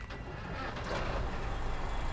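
A Pacific P16 truck engine in SnowRunner runs steadily, a rough, worn-sounding low rumble that grows slightly louder partway through, alone with no talk.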